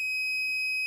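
Shrill continuous electronic alarm tone from a Lumeno 18 LED sensor light triggered by movement, one steady high-pitched sustained beep filling the whole moment, loud and close with no voices.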